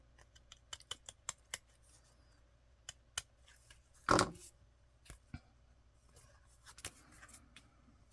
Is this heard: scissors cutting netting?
yes